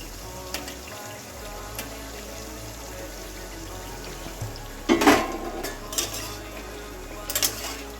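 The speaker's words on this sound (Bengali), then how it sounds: "এবার আমি আলুগুলো উল্টে নিচ্ছি" Potato pieces fry in a pan on a low flame with a steady soft sizzle, broken by a few clattering scrapes and clinks of a utensil against the pan as they are flipped.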